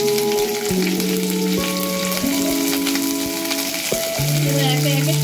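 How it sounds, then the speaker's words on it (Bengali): Dried red chilies, mustard seeds and curry leaves crackle in hot oil with a dense, continuous sizzle, heard under steady background music. "এবার আমি কারি পাতা দিয়ে দিলাম তেলের মধ্যে।"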